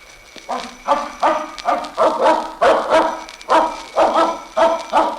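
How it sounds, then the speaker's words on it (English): A dog barks repeatedly in a steady rhythm, about a dozen loud, close barks in quick succession. "Seems to be no one here but the dog."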